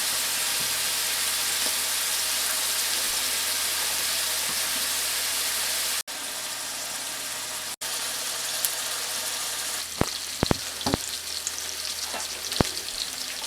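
Hamburger patties from a 1973 Betty Crocker recipe sizzle steadily in a frying pan, a dense continuous crackle that drops briefly twice, then carries sharper pops and spatters toward the end.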